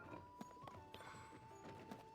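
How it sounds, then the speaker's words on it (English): Horse hooves clip-clop in The Legend of Zelda: The Wind Waker, faint rhythmic knocks at a walking pace over a quiet background hum, with soft tonal game music underneath. "if we head down to the stable, we're gonna acquire an horse"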